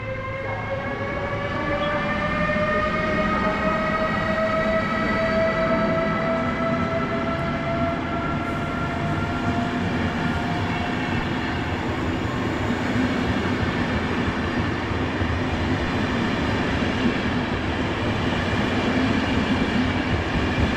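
A train hauled by a blue Beacon locomotive at Warszawa Zachodnia station in winter, a loud sustained rumble with long ringing tonal whines layered on top, continuous for the whole stretch, no talk.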